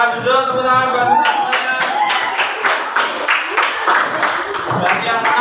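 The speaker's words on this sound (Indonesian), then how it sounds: "tepuk tangan buat kita" Audience applause in a classroom session, a burst of clapping that starts after a second and continues steadily, with voices talking over and around it.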